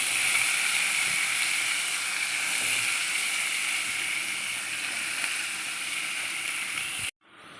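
Chopped ivy gourd (tindora) sizzling in a hot pan, a steady, loud frying hiss that continues evenly before cutting off abruptly at the end.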